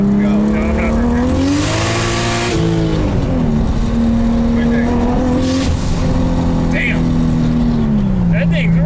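Turbocharged BMW F80 M3 drift build engine revs hard and close, rising and falling in loud sweeping pulls with turbo whooshes between, while people shout and talk excitedly over it.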